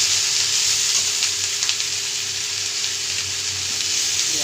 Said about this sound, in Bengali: এই আলুর সঙ্গে এটা কষে নেব।